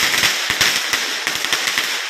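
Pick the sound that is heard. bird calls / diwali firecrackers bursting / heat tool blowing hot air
diwali firecrackers bursting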